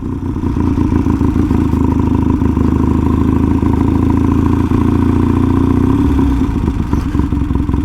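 A Triumph T140 motorcycle engine runs steadily close by, a loud, continuous mid-pitched throb with mechanical clatter and no breaks.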